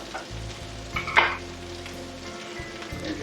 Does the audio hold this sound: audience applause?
no